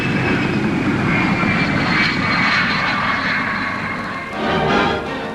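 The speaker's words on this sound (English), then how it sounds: "Coming in to land low and fast, the pilot uses a tail parachute to act as a brake." Flying Triangle delta-wing research aircraft coming in to land low and fast at Farnborough, a steady loud broadband engine roar with a brief swell near the end and no voices.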